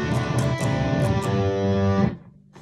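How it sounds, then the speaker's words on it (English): Electric guitar played through a distortion effect, a thick sustained chord ringing loud and steady for about two seconds, then cut off abruptly. "and then he turns the distortion on."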